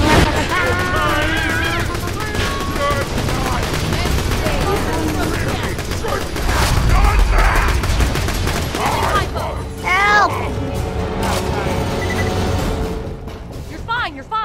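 Gunfire and grenade blasts in the shooter game Borderlands 2 form a dense, loud barrage of rapid shots and bursts that continues for the whole stretch, with players talking excitedly over the action.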